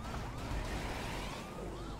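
A wailing siren sweeps up and down continuously, loud and close, over a dense rumble of traffic noise.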